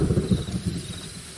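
Thunder rumbles with steady rain in the Roblox horror game The Mimic, a low rolling boom swelling and fading over a constant wash of rainfall, heard alone without voices.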